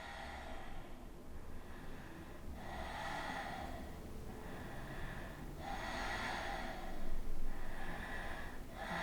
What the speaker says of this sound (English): Point the toes and take 5 deep breaths